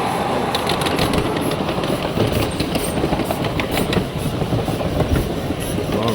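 A miniature railway train runs steadily and close, a continuous rumbling roll with faint rhythmic clacks and hiss throughout, no pause.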